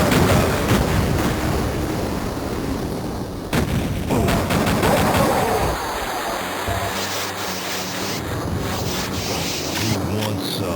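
Duke Nukem 3D game audio played through a Yucatan FX ISA sound card: loud bursts of gunfire over a roaring, wind-like wash of effects, dense and busy throughout with a brief drop partway.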